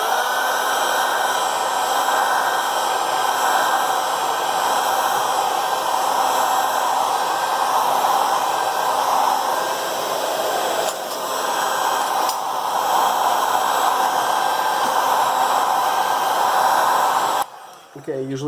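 A heat gun blows steadily on the cracked back glass of an LG G8 phone to soften the adhesive, a constant loud whooshing hiss that dips briefly twice and cuts off near the end.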